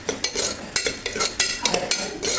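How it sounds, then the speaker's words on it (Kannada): Spoon stirring pepper powder into a khara pongal mixture in a pot, with repeated scraping and clinking strokes in an uneven rhythm, close and clear, no talking. "ಹಾಕಿ ಅದನ್ನು ಕೂಡ ನಾನೀಗ ಮಿಕ್ಸ್ ಮಾಡ್ಕೊತೀನಿ."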